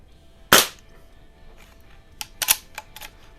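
A Crosman 2240 air rifle firing Crosman pellets: one sharp, loud crack near the start, then a few softer clicks and taps further on, with no talk.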